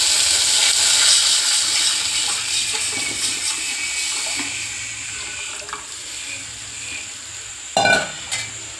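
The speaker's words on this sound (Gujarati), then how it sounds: "મેં તે સીધો વઘાર કર્યો" Whole spices tempering in hot oil for Gujarati kadhi give a steady close sizzle and crackle, with a brief louder splash of stirring or pouring near the end.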